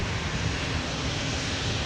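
A Delta A330 heavy jet airliner landing at Minneapolis–St. Paul airport gives a steady, broad roar of engine and rushing air, loud and continuous for the whole moment.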